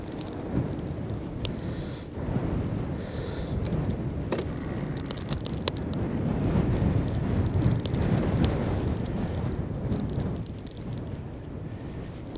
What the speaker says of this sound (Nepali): हावा चलिरहेछ यार चिसो